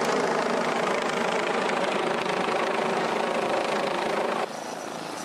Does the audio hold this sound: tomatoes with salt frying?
no